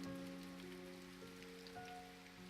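Steady rain pattering on a surface, faint and even throughout with no voices, a soft continuous wash of drops.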